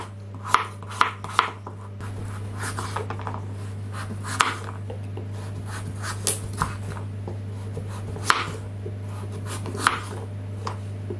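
Butternut squash being cut with a knife for a gratin, irregular sharp thuds and scraping strokes on a board, fairly close, over a steady low hum, with no talking.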